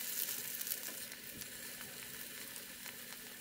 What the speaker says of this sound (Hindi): अब इन्हें पलट कर दूसरे साइड से भी 2 मिनट के लिए फ्राई करेंगे